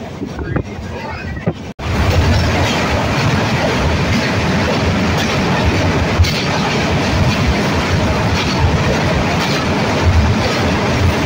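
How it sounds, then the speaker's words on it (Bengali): A passenger train runs on its rails just after pulling out of Santragachi station in West Bengal, giving a loud, steady rumble and rattle close by with no break throughout. "আমাদের ট্রেনটা এখন সাঁতরাগাছি স্টেশন থেকে ছাড়লো প্রায় 3:30 নাগাদ"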